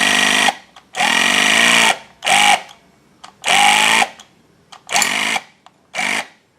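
A Gator power tool driving a uuD Series die set punch into 14 gauge stainless steel whirs in six loud, close bursts of motor whine, each a fraction of a second to about a second long, with silent gaps between them.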